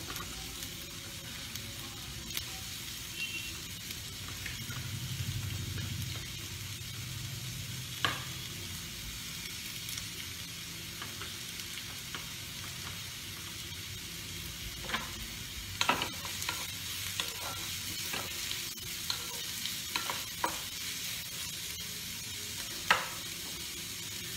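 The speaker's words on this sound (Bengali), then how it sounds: "তাহলে আমার তেল গরম হয়ে গেছে, এবার আমি এখানে পেঁয়াজ কুচিগুলো ছাড়বো।" Chopped onions sizzle in hot oil in a pan for a chicken pie filling: a steady close hiss punctuated by scattered sharp clicks and scrapes from stirring, with no one talking.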